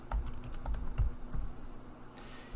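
Close, quick keystrokes clatter on a computer keyboard in an irregular burst of typing, tapering off toward the end.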